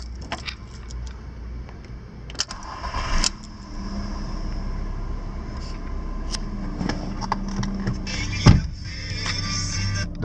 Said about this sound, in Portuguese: Vou ligar o carro aqui para vocês.